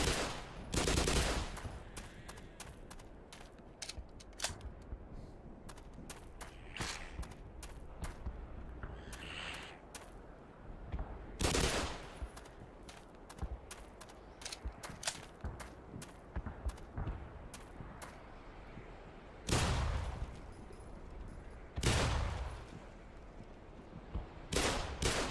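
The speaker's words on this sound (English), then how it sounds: "They're bombs." Bombs exploding in a long series of sharp, irregular blasts and bursts, several heavy and close, with a steady rumble and crackle filling the gaps; no voices.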